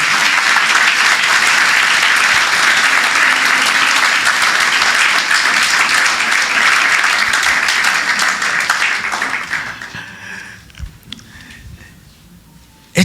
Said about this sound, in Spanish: Míndenles un fuerte aplauso a nuestro Dios.